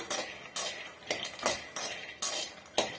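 Nuts being dry-roasted in a pan for ragi flour kozhukattai, stirred with a utensil that scrapes and clinks against the metal in repeated rhythmic strokes, close and fairly clear.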